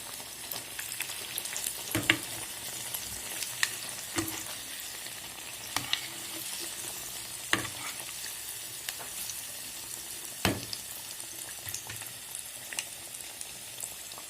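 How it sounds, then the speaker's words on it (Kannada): Paneer fingers dipped in gram flour batter fry in hot oil, a soft continuous sizzle with occasional sharp clicks and pops as pieces are turned. "ಪನ್ನೀರ್ ರೋಲ್ ಅದ್ದಿ ಹಾಕಿದ್ದೀನಿ ಕಡಲೆ ಹಿಟ್ಟಲ್ಲಿ."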